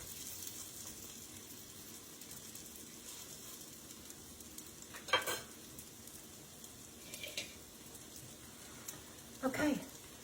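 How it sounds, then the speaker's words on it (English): Soft, steady sizzling of salmon patties frying in a pan, with a few brief clinks and scrapes. "these are frying up"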